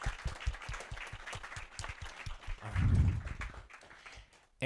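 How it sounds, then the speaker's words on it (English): An audience at a developer meetup gives a brief, fairly soft round of applause for the speakers, the scattered clapping fading out after a few seconds. "let's give a quick second round of applause to all of our speakers"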